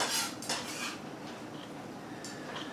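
Chopped lobster chunks tumble back into a mixing bowl, a few close clattering knocks in the first second, then a quieter rattle and soft scraping, with no talk.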